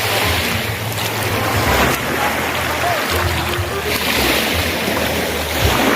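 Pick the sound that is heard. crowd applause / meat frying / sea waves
sea waves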